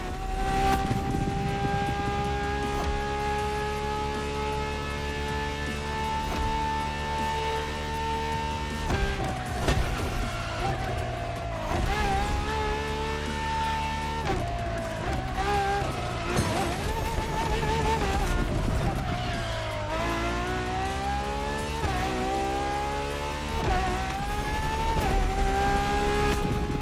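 A Ferrari LaFerrari hybrid supercar with an F1-style kinetic energy recovery system roars in The Crew Motorfest, its loud engine note climbing and dropping through repeated gear shifts, steady and close throughout.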